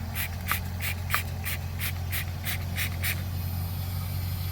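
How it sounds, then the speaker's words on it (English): SUPER CLEAN cleaner sprayed onto grease on a boat, about ten quick spray-bottle squirts in a fairly even rhythm, close by over a low steady hum, then the spraying stops. "Let's spray it one more time."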